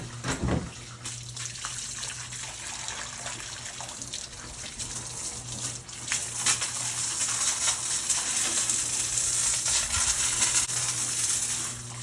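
A hose sprays water inside a free boat being cleaned, a steady broad rush that holds close and loud for the whole stretch, with some splashing bursts and no voices.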